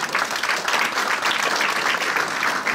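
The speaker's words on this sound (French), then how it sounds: "Permettez-moi d'accueillir sous vos chaleureux applaudissements sur cette scène celle qui a initié cette soirée charité, Madame Mireille da Silva." Audience at a charity gala in Brussels applauding warmly: steady, dense clapping from a full room, fairly close and sustained throughout without a break.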